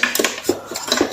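A metal inner cooking pot is lifted out of a rice cooker, giving light clinks and scrapes of metal on metal in quick, close knocks.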